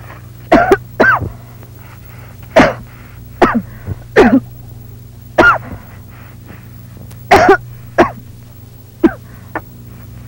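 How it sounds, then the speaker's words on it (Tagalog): A woman coughs repeatedly in a Filipino drama film, harsh rasping bursts in uneven clusters across the whole stretch, close and loud. "ang sama ng ubo ninyo ah"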